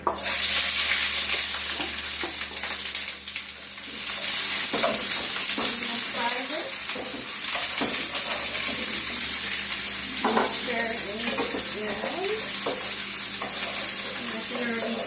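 Onion, garlic and ginger sizzle loudly in hot olive oil, a steady close crackle broken by stirring scrapes and a brief dip as the pan is handled.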